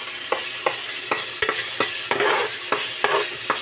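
Carbonara toppings frying in a pan, a steady close sizzle with a sharp stir or scrape of the utensil roughly every half second.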